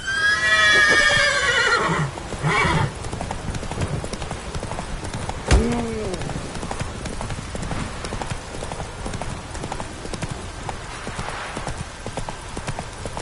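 Horse in The Witcher 3 neighing loudly at the start, then galloping with steady rapid clip-clop hoofbeats that continue throughout, with a brief snort midway.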